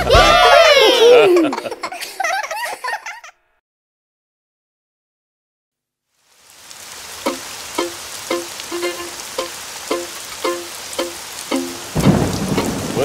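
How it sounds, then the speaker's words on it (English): A rain and thunderstorm passage follows a stretch of lively sung and spoken cartoon voices and a silent gap: steady rain hiss with a run of repeated crackling rumbles, swelling louder near the end. "Would you look at all the rain?"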